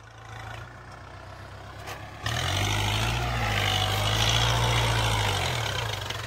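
A tractor engine pulling a plough drones loudly and continuously nearby, its low steady hum jumping up in strength partway through and holding a heavy, even rumble to the end.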